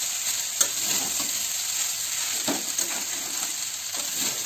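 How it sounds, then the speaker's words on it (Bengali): Leftover rice fried with potato and onion is stirred in a pan, with a continuous close sizzle and repeated spatula scrapes and clicks against the metal. "আমি ভালো করে এটা নেড়ে নিচ্ছি।"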